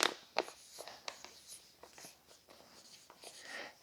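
A marker squeaks and scratches across a plastic vacuum sealer bag in short separate strokes, close and fairly quiet.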